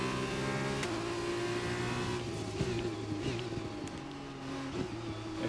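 A Formula 2 race car in the F1 2021 video game, aquaplaning on a wet track, with a steady droning engine note and a brief shift-like break, moderately loud.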